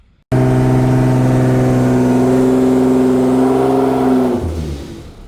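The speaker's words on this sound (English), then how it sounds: "So the GTR is on the dyno." A Nissan GT-R engine is held at steady high revs on a dyno, a loud, close, sustained droning tone that abruptly begins and then winds down near the end, with no voices.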